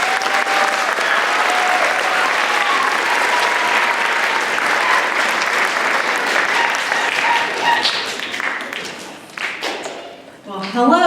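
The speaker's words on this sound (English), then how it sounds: "Let's go ahead and give them another round of applause." A crowd at an elementary school D.A.R.E. graduation applauds loudly and steadily for several seconds before the clapping thins out and fades near the end.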